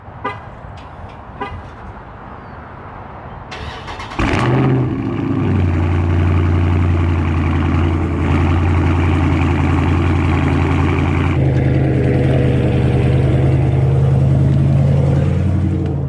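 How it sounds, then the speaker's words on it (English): A Dodge Charger 392 Scat Pack widebody V8 cold-starts with a sudden loud crank and roar, then settles into a heavy, deep, rumbling high idle that holds steady for several seconds. "It ain't right if we don't do the cold start, man."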